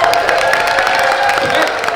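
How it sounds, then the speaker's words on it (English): A crowd applauding and cheering for the crew and staff of the Galactic Starcruiser Halcyon, dense clapping mixed with whoops and shouts, loud and steady throughout. "Let's give them a round of applause."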